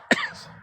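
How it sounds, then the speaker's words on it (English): A single sharp, close cough bursts out and then fades into a short raspy tail, with quiet room tone afterward. "I only really cough like that when I'm talking"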